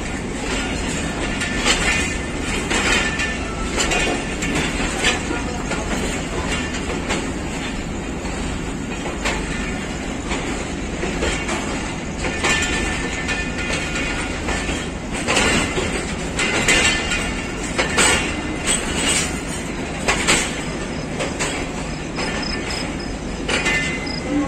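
Pakistan Railways Tezgam AC sleeper train running on rails between Lahore and Rawalpindi, a steady rumbling roll with repeated clickety-clack wheel beats and insect-like chirping throughout, heard from inside the train.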